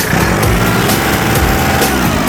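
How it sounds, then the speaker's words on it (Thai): A used 2008 Kubota L3408DT tractor's diesel engine revs hard, a loud, dense, sustained roar with slight pulsing surges, close by and without talk. "เร่งให้ดูครับ"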